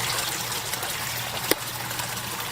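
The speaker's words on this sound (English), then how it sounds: "That's allowing the water to siphon out of the bottom of the grow bed." Water siphons out of the bottom of an aquaponics grow bed, a steady rushing gush with one brief gurgle, close and continuous.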